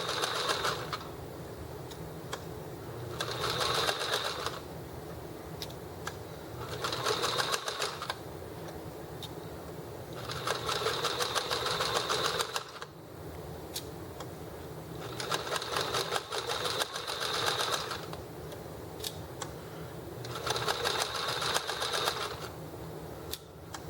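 Sewing machine top stitching around the seam of a bag, running in repeated bursts of a few seconds each with short quiet pauses between, steady and close.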